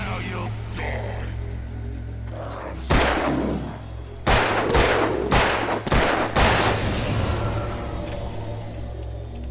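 Gunfire in the video game Alan Wake: several loud, sharp shots crack out in irregular bursts over a low, constant droning hum.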